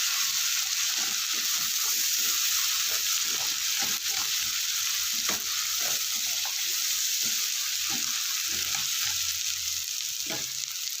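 Masala for a village-style fish curry fries with a steady sizzle while a spoon scrapes and stirs the pan in irregular strokes, close and clear with no talking.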